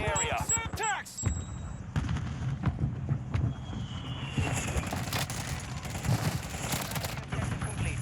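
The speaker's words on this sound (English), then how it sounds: "There's a cluster going off, there's gunshots" Distant booming cluster-strike blasts and scattered gunshots from the video game Warzone, with sharp cracks and low rumbling bursts repeating throughout over steady background noise.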